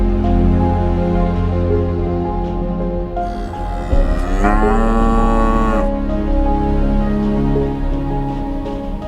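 Cattle on a dairy farm give one long, loud, drawn-out moo lasting a few seconds. It rises over a steady background hum of farm noise, close by, with no speech.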